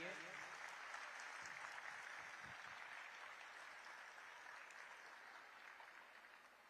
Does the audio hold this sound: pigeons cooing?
no